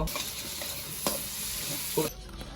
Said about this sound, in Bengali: এই হচ্ছে চিকেন রান্না